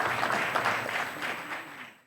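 Audience applause at a closing ceremony of a digital forum in Diamniadio, Senegal, a steady wash of many hands clapping from a sizeable crowd, moderately distant, fading out near the end with no voices over it.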